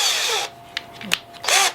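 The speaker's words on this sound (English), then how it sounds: "So what I'm going to end up doing is pre-drilling 2 holes" A power drill pre-drills two holes in wood for a spline jig, with short bursts of whining motor and brief pauses between runs.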